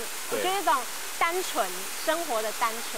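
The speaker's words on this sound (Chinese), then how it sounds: "然后还有这种瀑布的声音是这个伴奏的声音" Steady broadband rush of a waterfall on Taiwan's north coast, present throughout as a constant background while a person speaks over it.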